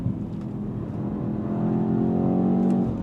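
A 2024 BMW X1 M35i's boosted engine pulls hard out of a curve, its drone climbing steadily in pitch over a few seconds from inside the cabin, loud and continuous with no talking.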